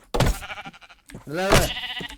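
Two short, wavering sheep bleats in Minecraft, one after the other, close and loud.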